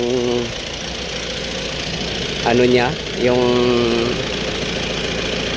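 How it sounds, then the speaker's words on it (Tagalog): A defective air-conditioner condenser fan motor runs slowly with a steady mechanical hum and rattle, while someone talks over it close by. "yung ikot ng fan motor ay hindi na ganun kabilis, at saka pag minsan ay namamatay-matay na yung fan"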